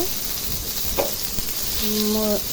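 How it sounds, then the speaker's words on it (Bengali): Rohu fish, rubbed with turmeric and salt, fries in hot oil, giving a steady soft sizzle with a couple of scraping clicks as pieces are turned, close and fairly quiet. "নেওয়ার পরে ভাজলাম, ভাজতেছি আর কি, সব উল্টায় পাল্টায় ভালোভাবে মাছটা ভেজে নিতেছি"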